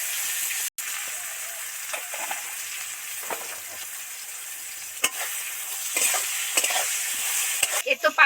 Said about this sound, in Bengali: এবার বেগুন কটা তেলের মধ্যে সবার আগে একটুখানি ভেজে নেব